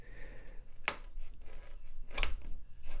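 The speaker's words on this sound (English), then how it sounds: "I'm going to start off by using a chisel to pare off the very high bits" A chisel pares high spots of dried wood filler and glue off a pallet-wood workpiece on a Workmate, giving two short, sharp scraping strokes close by against a faint background.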